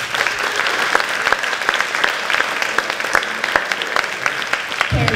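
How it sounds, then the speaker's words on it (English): Audience applause at an elementary school promotion ceremony, a dense, steady round of clapping from a large gathering that continues evenly before cutting off at the end. "Let's give them another round of applause."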